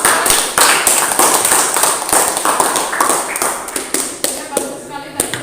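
A classroom group receives applause: a dense patter of hand claps from a small audience, steady and close for several seconds, tapering toward the end with a voice briefly audible.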